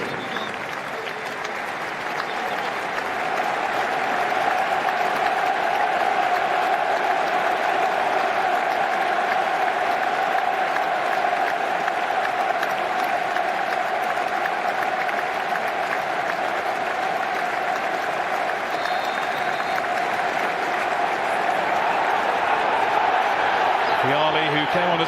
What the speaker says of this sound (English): There will now be a period of applause in his honour, which will begin and end on the referee's whistle.